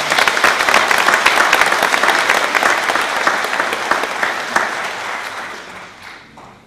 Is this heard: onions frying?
no